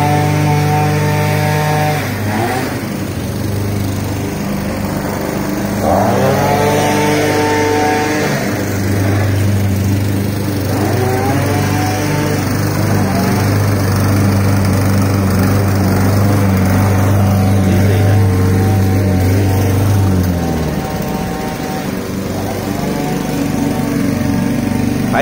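A gas lawn mower cuts grass during a lesson for kids on mowing a yard. Its engine drones loudly and close for the whole stretch, with the pitch rising and falling as the load shifts. No one speaks.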